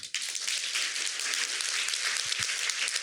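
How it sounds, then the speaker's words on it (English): An audience at a cannabis talk event gives a steady round of applause, dense clapping that runs throughout at moderate distance. "I want everybody seated to go ahead and give them a big round of applause"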